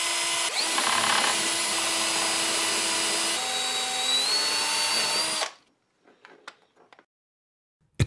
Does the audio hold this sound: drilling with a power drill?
yes